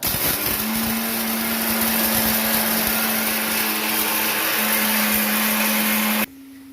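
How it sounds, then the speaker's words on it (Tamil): A mixer grinder grinds roasted spices, whirring loudly and steadily for several seconds, a harsh continuous motor roar, then abruptly cuts off, leaving a faint hum. "இப்போ வறுத்து வச்சதை நம்ம மிக்சியில் பொடி பண்ணிடலாம்"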